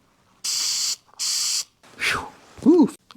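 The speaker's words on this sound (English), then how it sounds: "And I'm going to spray a little of this." Two short, sharp hissing bursts of spray paint onto a Mercedes-Benz grill emblem being restored, followed by a couple of brief squeaky, swooping sounds.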